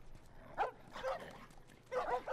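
Dogs in the video game The Last of Us bark and yip in short bursts, three separate outbursts at moderate distance, with no talk over them.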